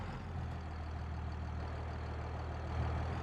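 A tractor engine drones steadily from inside a tinted-window cab during dairy field work in Westby, Wisconsin, a low continuous rumble with no talk.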